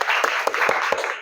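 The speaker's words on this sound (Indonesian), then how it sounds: "Kita kasih tepuk tangan dulu untuk Azra." A classroom of students claps for a classmate, a short, sparse burst of a handful of separate, fairly close hand claps rather than a full ovation.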